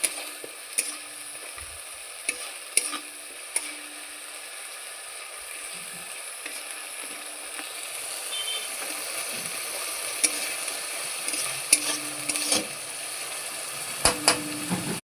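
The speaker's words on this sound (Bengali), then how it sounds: "এবার আমি পেঁয়াজটাকে ভালোভাবে ভেজে নিচ্ছি।" Onion paste fries in oil with a steady, low sizzle, with occasional clicks and scraping clinks of a utensil against the pan.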